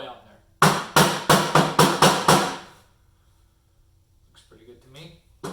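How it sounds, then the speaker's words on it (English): A hammer bangs a dado blade down onto its arbor: seven sharp, evenly spaced metallic strikes in quick succession, loud and close, then a quiet pause before faint handling clatter. "bang it down with the hammer just to make sure it's all the way on there"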